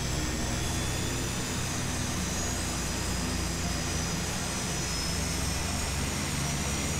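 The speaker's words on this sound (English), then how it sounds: "There we go, we got 2 engine starts." Twin engines of a Carenado S360 aircraft in a flight simulator run at a steady, loud drone with a constant broadband roar throughout and no speech.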